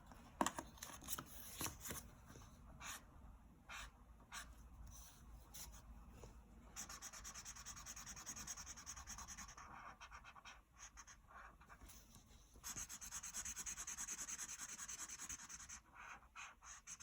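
Pen or marker drawing three lines on paper for a bird's-eye snowman picture, faint close scratchy strokes in short bursts and longer rubbing passes, quiet with no talk.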